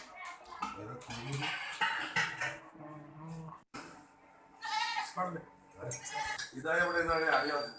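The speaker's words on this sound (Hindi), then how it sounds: "ये एक 3 महीने का बकरी का बच्चा है" A three-month-old goat kid bleats during hijama cupping with a cupping machine, several loud close cries rising and falling, mixed with people talking nearby.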